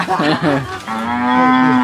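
A cow moos loudly and close in a pen, a couple of short grunting lows followed by one long sustained moo, with no voices.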